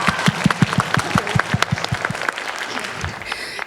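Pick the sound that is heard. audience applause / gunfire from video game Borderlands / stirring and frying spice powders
audience applause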